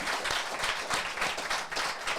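Steady applause from a crowd at the UTMB 2023 trail race, a continuous wash of clapping without talk, fairly distant and soft.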